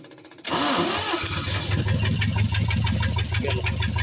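An engine is started after a spark plug test for misfiring. A brief cranking leads into a firm catch, then a steady mid-pitched idle with a rhythmic chug that holds close and loud to the end.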